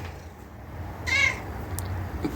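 A cat gives a single clear meow near a farm tractor, short and fairly close, over low rumbling background noise with no talk.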